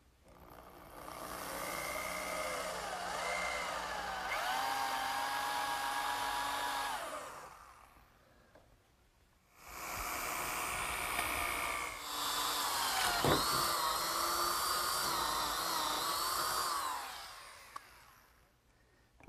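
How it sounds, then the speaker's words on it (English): A power drill with a 1 3/8 inch bit boring through a 2x4 of oak, its motor whining loudly in two long runs separated by a brief pause, the pitch sagging under load as the bit bites into the wood. "I'm ready to drill a hole through the 2x4 in oak for my bench screw"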